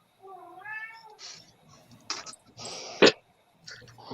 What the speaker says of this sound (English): The cat doesn't like it anyway.